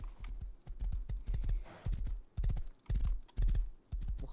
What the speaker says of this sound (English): this horse is running out of stamina.